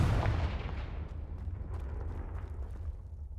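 A Confringo spell explosion in Hogwarts Legacy in a phoenix mountain cave lands with a heavy, booming blast at the start, then a long rumbling decay that fades steadily over several seconds with no voices.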